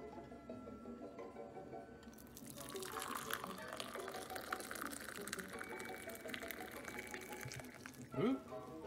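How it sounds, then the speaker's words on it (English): Coffee poured from a vintage 1960s Proctor Silex Citation Atomic glass percolator into a cup, a steady close liquid trickle with soft splashing and a brief louder gurgle near the end. "Now I have to pour a cup of coffee."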